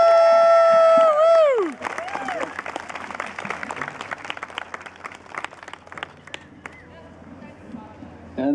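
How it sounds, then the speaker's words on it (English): Audience applause at a community service awards breakfast, starting after a loud tonal sound. A room-wide spray of clapping carries on for several seconds with some cheering mixed in, then thins out toward the end. "let's give a round of applause for all the winners today"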